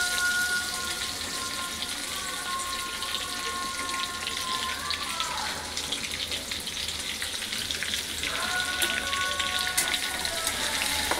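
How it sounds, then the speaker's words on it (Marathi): Peeled, crushed garlic frying in hot oil with a continuous close crackling sizzle like light rain, over a faint steady tonal whine that briefly drops out midway. "आता हा लसूण आपण घेतलेला सोलून आणि टेचून, तो पण मी आता ह्याच्यामध्ये तेलामध्ये टाकते।"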